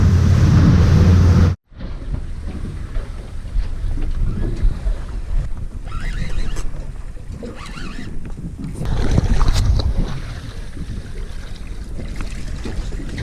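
A boat crossing a river bar on a hunting trip at Adams Flat: a steady roar of engine, water and wind buffeting the microphone, surging louder toward the end, with a sharp cut near the start and no talk.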